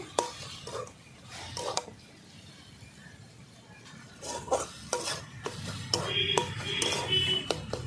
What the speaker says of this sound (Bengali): এইভাবেই আমি নাড়াতে থাকবো মাঝে মাঝে